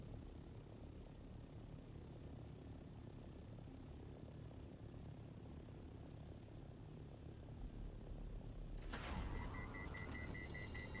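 A flying machine's engine drones in Dune: Awakening, a steady mechanical hum throughout that gives way near the end to a sudden brighter burst with repeating electronic beeps.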